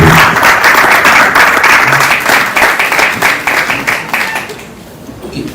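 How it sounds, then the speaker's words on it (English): An audience at a FinTech cybersecurity and fraud summit applauds a speaker's introduction, loud dense clapping that gradually thins into scattered individual claps and fades toward the end. "A round of applause for Mr. Jude."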